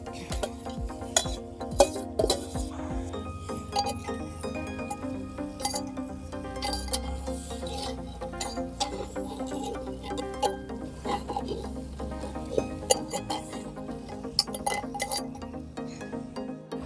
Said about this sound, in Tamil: நல்லா ஒரு 10 நிமிஷம் இந்த மாதிரி வணக்கி விட்டுட்டே இருங்க, அடி பிடிக்காத அளவுக்கு